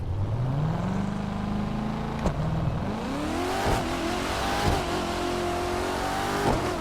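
A 2019 Corvette ZR1 convertible with a loud supercharger in the racing game The Crew 2 spins its wheels launching in second gear, the engine note climbing steadily as it revs and accelerates, with a short shift-like break partway.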